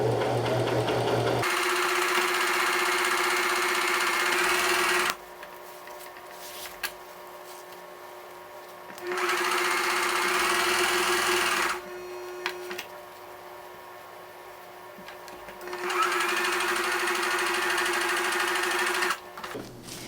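Home sewing machine stitching a scrunchie seam, running in three steady whirring bursts of several seconds each with quiet pauses between, close and clear with no talking.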